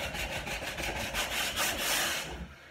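Coarse-grit sandpaper scrubbing across a wooden dining table top, fast, steady back-and-forth strokes of loud, close abrasive rasping with no talk.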